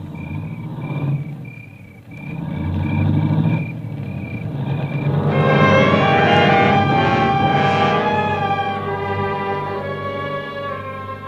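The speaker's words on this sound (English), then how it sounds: "I heard the car leave" In a 1948 radio drama, a car engine idles and then revs up as the vehicle pulls away, a rising motor drone with shifting tones that stays fairly loud and close throughout, with no talking.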